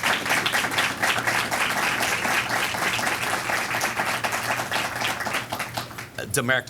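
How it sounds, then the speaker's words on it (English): Dense, sustained applause from a ceremony audience at a police and fire student pipeline program event, steady clapping filling the whole stretch before briefly thinning near the end. "Please join me in giving them all a round of applause."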